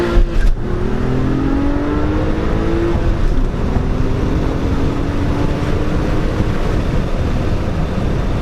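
A 2008 Porsche 911 S engine revs under acceleration, a loud, steady roar with rising engine tones sustained throughout, no talking.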